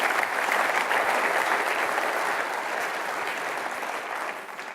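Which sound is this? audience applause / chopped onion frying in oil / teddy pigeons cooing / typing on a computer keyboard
audience applause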